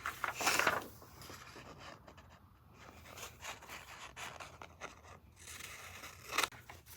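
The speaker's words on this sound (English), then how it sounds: "So let me just cut those real quick." Scissors snip through paper for a handmade paper wand: a sharp, close cutting burst at the start, quiet rustling and handling in between, and another crisp snip near the end, all soft and without talk.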